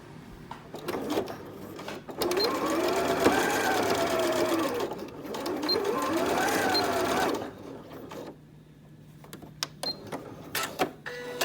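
A domestic sewing machine stitches twill tape along the far edge of an apron in two sustained runs of steady whirring, separated and followed by brief pauses, fabric handling and small clicks.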